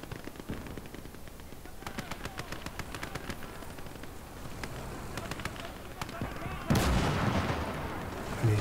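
Tank machine gun and artillery fire in the Gates of Hell strategy game, set on the Soviet front: repeated sharp bursts and shots over a steady battle rumble, with a louder blast near the end.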